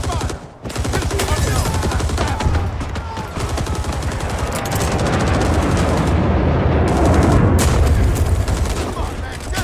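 Dense, continuous gunfire and explosions from the Rising Storm war game, with rapid bursts layered over booming blasts; voices call out intermittently.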